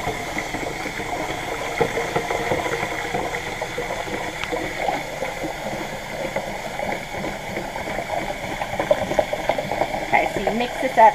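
Salt water brine pours steadily into a gallon pitcher for pickling cucumbers, a continuous splashing rush of liquid filling the container, close and moderately loud throughout.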